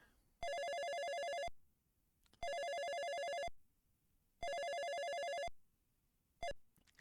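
A telephone ringing in the police adventure game Police Quest: In Pursuit of the Death Angel on PC, loud electronic rings of about a second each repeating at two-second intervals, with a final ring cut short.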